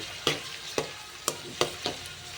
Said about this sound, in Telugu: బాగా ఫ్రై అయ్యాక టమాటా ముక్కలు వేసి అవి కూడా బాగా ఆయిల్లో ఫ్రై చేసుకోండి